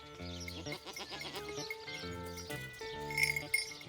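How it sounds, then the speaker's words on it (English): Goats, chained, bleat repeatedly at close range, several overlapping wavering cries in quick succession, with faint rustling in between. "The chained goats seem harmless enough"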